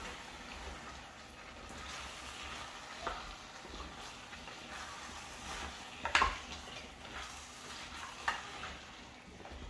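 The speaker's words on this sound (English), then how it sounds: "Give it a good stir." Chunky potatoes are stirred into a porridge sauce in a pot, giving soft, faint scraping and a gentle bubbling sizzle with a few sharper utensil knocks near the end.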